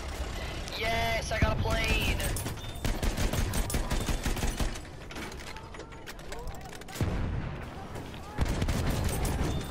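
A tank's auto shotgun fires in a video game, a dense run of sharp mechanical bangs and clanks packed through the whole stretch, with a voice briefly audible near the start.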